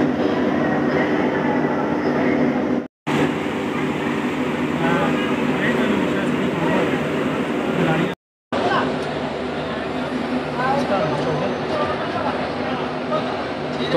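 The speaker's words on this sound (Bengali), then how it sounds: "11টা 20-তে ছাড়ার কথা, সেই জায়গায় 2 মিনিট লেটে 11টা 22-এ ছেড়েছে শিয়ালদা থেকে।" The Padatik Express pulls out of Sealdah behind a WAP4 electric locomotive, a continuous loud rumble of rolling wheels and coach noise heard from inside the train. The sound is cut by two brief dropouts.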